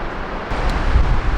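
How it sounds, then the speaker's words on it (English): Continuous broadband roar of a big waterfall near Quebec City, heard from its base, dense and steady throughout. "it's a big waterfall"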